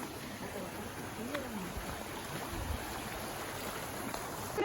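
Steady broadband rush of a waterfall in Kudremukh National Park fills the whole stretch, loud and continuous, with a faint voice briefly rising near the end.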